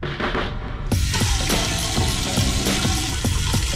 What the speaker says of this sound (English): I'm gonna put it under some warm water